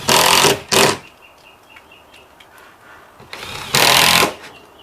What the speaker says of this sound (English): Put a bunch of screws in this to tighten it up.